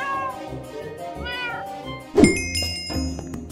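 An aggressive cat meows loudly and close, with a drawn-out wavering yowl followed by a sharper rising cry, over faint background noise.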